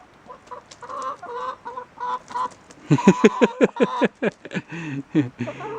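Several chickens cluck and cackle close by in quick irregular bursts, with a louder run of rapid cackles in the middle.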